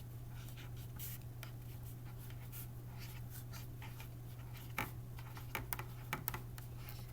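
A pencil writes a short sentence on paper, giving close, soft scratchy strokes in irregular bursts with brief pauses and a few sharper taps near the end, over a steady low electrical hum.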